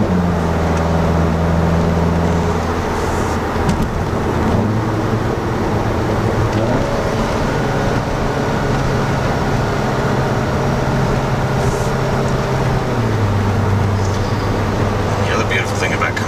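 Inside the cabin of a VW Golf GTI Clubsport 40-year edition with its resonator deleted, a steady, loud engine drone fills the car, its pitch stepping up and down through gear changes under continuous road rumble.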